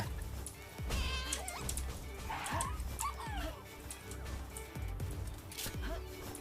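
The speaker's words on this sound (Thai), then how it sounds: "ตอนนี้แมวของผมกำลังเดี่ยวๆ กับไดโนซอมอยู่ข้างล่างนะ" In the Palworld video game, a cat Pal battles a Dinosom, bringing a mix of creature cries: yips, meow-like calls and whimpers, plus thumps and game effects over a constant background bed.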